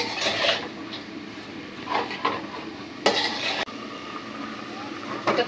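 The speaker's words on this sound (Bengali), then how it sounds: "মশলার সাথে মসুরের ডাল আর চিকন করে কেটে রাখা ডাটাটা কষাই নিব।" Lentils and thinly cut stalks stir-fried with spices in a pan in a village kitchen: intermittent clanks and scrapes of a spoon against the pan over a low sizzle, with a few sharper knocks.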